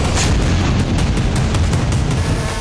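Several explosions from attacks in the Simferopol area of Crimea, a dense, continuous low rumble of booming blasts with no distinct separation between hits, loud throughout.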